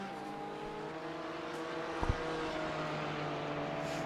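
A Porsche race car engine drones steadily in the iRacing sim at Sebring, a sustained mid-level tone with faint harmonic whine and a brief thump midway, distant and without talk.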